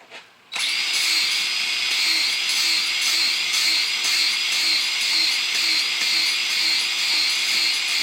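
A handheld power drill spins steadily to lap engine valves coated in lapping compound on an LS head, starting abruptly after a brief click and holding a constant high whine throughout.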